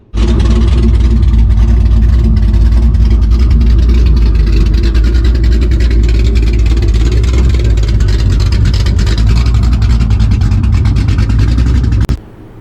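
A cammed GTHO V8 car engine idles loudly and close by with a steady, lumpy low rumble that runs throughout, then cuts off abruptly near the end.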